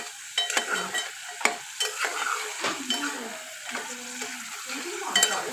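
Minced meat keema fries in a pan while being stirred vigorously, with repeated scraping and clinking of a utensil over an ongoing sizzle.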